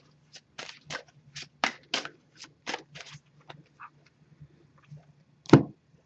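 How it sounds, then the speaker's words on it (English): A series of crisp, close riffles and taps from shuffling a deck of oracle cards, in an irregular rhythm, quiet between bursts, ending with a louder thump. "I'm going to give it a few more shuffles"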